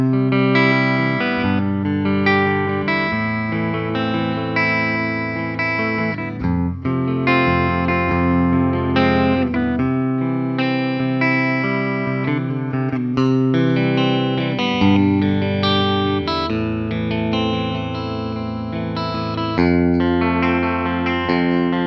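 Distorted electric guitar, a 2022 Epiphone Noel Gallagher Riviera, played through an amplifier, sustained chords and riffs ringing continuously, loud and close with no talking.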